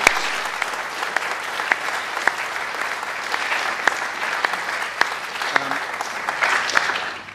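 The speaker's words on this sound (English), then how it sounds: "So can we just thank again all the speakers?" An audience at an academic symposium's closing session applauds the day's speakers, with sustained, even clapping from a fairly large room that runs for several seconds before tapering off at the end.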